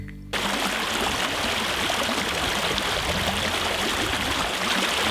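Cade Creek, a natural watercourse, flows with a steady, close rush and burble of water, continuous and unbroken after a brief quiet start.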